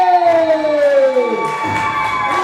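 A wrestling show crowd cheers and shouts in a large venue, with voices rising and falling over a sustained tone that fades under the swelling noise.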